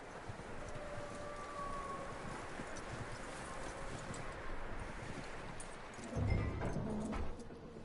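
Horse hooves clip-clop at a steady walking pace over a constant windy outdoor ambience in Red Dead Redemption 2, with a brief heavier thump near the end.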